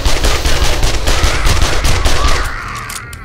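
Rapid SMG fire from a submachine gun in the console survival game 7 Days to Die, a loud continuous burst of shots lasting over two seconds, then trailing off into quieter game sounds.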